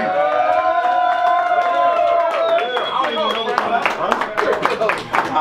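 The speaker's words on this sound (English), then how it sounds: "So please give up a strong round of applause for the one true homie, Scorpio P." A crowd at a hip-hop birthday bash cheers with long rising whoops and shouts, then claps in sharp, scattered bursts as the cheering gives way to applause.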